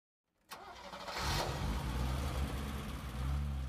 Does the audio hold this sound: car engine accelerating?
yes